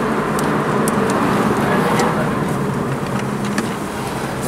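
A Toyota Tercel with newly fitted, stanced wheels drives along a road, its steady engine and tire roar continuous and fairly loud from inside the car, with traffic noise around and no talking.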